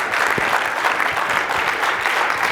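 Audience at a Nashville conference session applauding along with the speaker, a dense, steady wash of clapping from a roomful of people, fairly loud and continuous for a couple of seconds.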